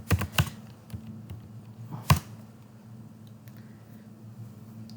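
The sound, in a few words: computer keyboard typing, pressing Ctrl S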